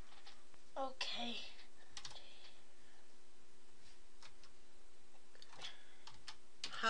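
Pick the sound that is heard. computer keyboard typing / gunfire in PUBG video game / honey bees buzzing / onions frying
computer keyboard typing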